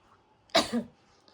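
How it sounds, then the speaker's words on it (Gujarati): A single short cough, close and fairly loud, breaks a quiet indoor background and then fades. "મને તો ઉધરસ છે જ."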